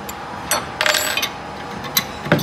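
A Gerardi vise is released, giving a few sharp metallic clicks and ratcheting snaps close by, with short bursts spaced across a couple of seconds and no talk.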